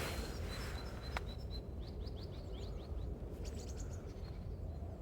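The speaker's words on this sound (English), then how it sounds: "Oh, there's another one in the tree there. Oh, damn. Oh. It's like a green finch." A greenfinch calls from a tree, giving faint, rapid chirps and short trills spread over a few seconds against steady outdoor background noise.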